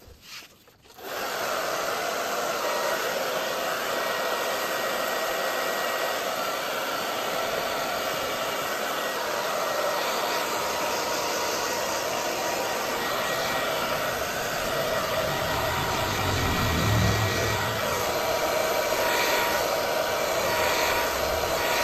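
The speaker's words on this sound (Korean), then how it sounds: "집중적으로 드라이기를 말려줄 거예요" A handheld hair dryer runs steadily and close by, drying thin wallpaper putty on an interior wall during a DIY papering job, its continuous whooshing drone lasting throughout after a brief quiet start.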